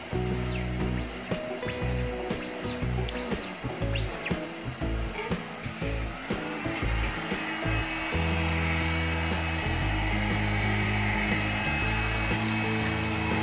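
A cheap heat gun blows hot air onto plastisol screen-printing ink, a steady close whooshing hum with rattling and clunks mixed in, shifting to a fuller, steadier drone partway through; no speech.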